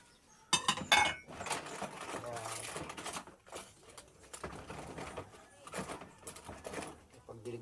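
Plates and dishes clink and clatter as they are stacked and cleared after a meal, with a sharp burst of ceramic knocks early on, then scattered quieter clatter and a person speaking nearby.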